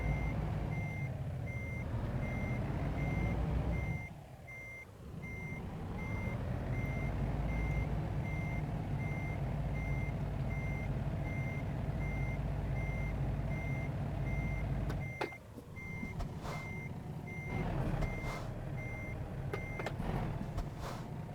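A vehicle backs into a parking spot on a Utah road trip, its reversing alarm beeping steadily over a low engine rumble. The beeping breaks off briefly twice, then resumes, with no talk.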